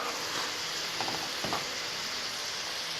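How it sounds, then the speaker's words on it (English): Noodles stirred through a chicken and mushroom sauce in a pan, a steady close sizzle with a brief scrape of the utensil partway through, no voices. "Let's give our noodles another little stir."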